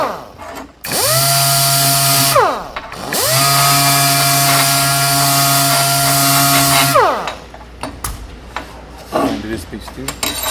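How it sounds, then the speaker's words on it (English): A DA sander cleaning oil and grime off cut steel pieces with about 60-grit paper: a loud close motor whine that runs up, holds steady, briefly stops, then runs again before winding down, followed by scraping and handling noises. "What you want to do is clean most of this oil and grime off with the DA sander off both pieces."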